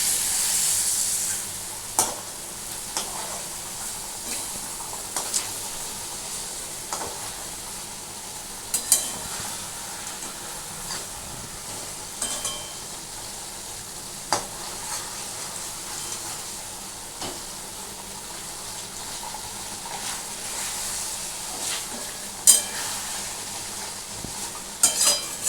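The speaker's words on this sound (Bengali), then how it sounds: "ভালো করে নাড়াবো।" Basa fish curry sizzling in a pan while being stirred, a steady frying hiss broken by repeated scraping clicks of the spoon, close and without talk.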